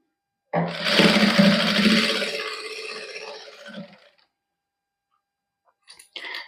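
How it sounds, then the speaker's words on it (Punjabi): Sewing machine stitching a single line of fine lace onto chikan-work suit fabric: a loud, close whirring run lasting about three and a half seconds that tapers off, then silence and a couple of short faint bursts near the end. "ਇਸ ਤਰ੍ਹਾਂ ਹੀ ਆਪਾਂ ਇੱਕ ਸਲਾਈ ਨਾਲ ਹੀ ਲੈਸ ਜਿਹੜੀ ਲਾ ਦਾਂਗੇ"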